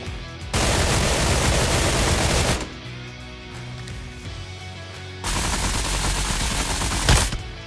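Rapid automatic bursts from the dual MP7 in the video game PUBG Mobile, two loud sustained volleys of fire separated by a quieter gap with lingering game ambience.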